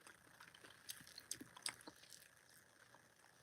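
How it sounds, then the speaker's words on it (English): Quiet close-up chewing of hamburger and egg, a handful of soft moist bites and squishy mouth sounds with no talking. "I'm eating some hamburger and egg for dinner."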